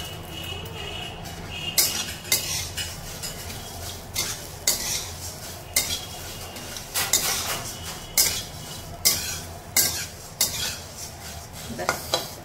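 A spoon stirs food in a pan after fried jhuri is added, making a dozen or so scraping, clinking strokes at an uneven rhythm over a faint background sizzle.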